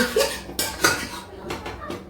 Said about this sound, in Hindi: अब ये कढ़ाई जो है थोड़ा इस साइड में रख देते हैं।